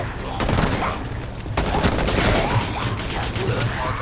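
Dense, rapid gunfire fills a round of the video game Operation Outbreak on its highest difficulty, with sharp repeated shots in quick bursts almost without pause, loud and close.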